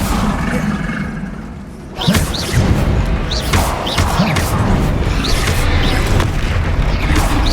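Confringo fire blast spell explosions in the video game Hogwarts Legacy, a burst of booming impacts and whooshes starting about two seconds in, then repeated blasts and thuds continuing loudly over dense game noise.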